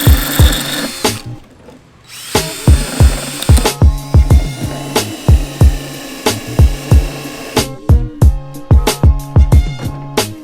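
A power tool cuts through a plastic car speaker adapter for an Audi B5 A4/S4 audio install, giving loud, rapid repeated bursts of sharp cutting noise close by, with a brief pause near the start and no talking.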